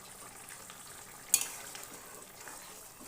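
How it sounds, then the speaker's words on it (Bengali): Curry liquid for a cauliflower, potato and tengra fish stew bubbles at a steady boil in a covered pan over medium heat, a continuous soft hiss with one brief sharp clink partway through. "ফুটে উঠেছে"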